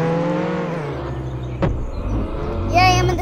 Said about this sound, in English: I'm in the car and driving it and getting away